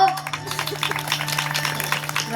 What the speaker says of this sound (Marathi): वाजवा टाळ्या वाजवा.